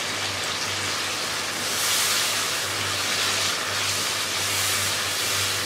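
Ginger garlic paste and chopped green chilies sizzling in hot oil for chana dal, a steady loud frying hiss with gently swelling intensity throughout.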